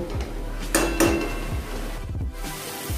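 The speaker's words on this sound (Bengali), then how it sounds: "এখন আমি এটাকে ঢাকা দিয়ে দেব।" A lid set down on a pot of oil-free chicken cooking on the stove, a couple of clear metallic clinks standing out against steady low kitchen hum.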